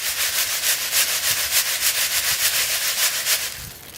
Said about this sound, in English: I can just kind of sift out the finer particles